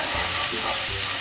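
Chopped garlic dropped into very hot oil in a pan, heat lowered, giving a steady dense sizzle throughout at close range.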